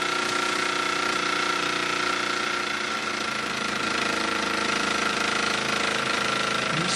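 A 1954 Mamod SE2 model steam engine runs continuously with a dense, even mechanical chatter and hiss, loud and close, holding steady throughout.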